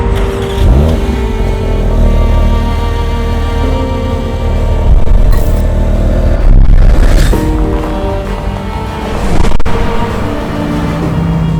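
A 2025 Porsche 911 engine revs loudly toward 9,000 RPM, a sustained rising howl broken by brief gear-change dips before it climbs again, close and without any voices.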